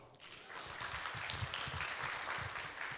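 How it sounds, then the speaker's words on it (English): Audience at a business training seminar in Singapore breaking into applause, a faint but steady wash of many hands clapping that rises quickly and holds for a few seconds. "Please give yourself a big round of applause."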